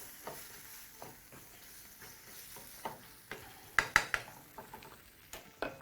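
Taco mince is stirred through in a pan with the heat switched off, giving irregular scraping and clinking strokes of a utensil against the metal over a faint low sizzle, with a few sharper taps near the end.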